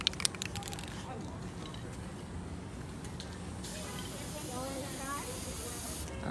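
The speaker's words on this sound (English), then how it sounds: "When you're a baby and you gotta use two hands to spray the bottle." Aerosol spray paint hissing at an outdoor graffiti park, with several short bursts near the start and a steadier spray in the second half, heard close beside people talking.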